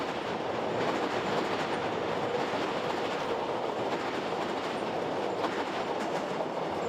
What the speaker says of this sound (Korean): 저는 다시 기차를 타고 봉화의 다음 목적지인 춘향역을 향했습니다.